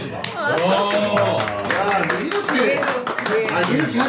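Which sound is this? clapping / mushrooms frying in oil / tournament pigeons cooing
clapping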